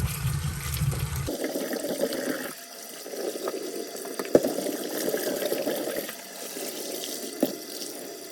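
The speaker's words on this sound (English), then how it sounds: "So now we rinse the potato." Tap water runs steadily into a sink as potatoes are rinsed by hand, a continuous close splashing hiss with a louder burst at the start and small knocks and shifts in the flow.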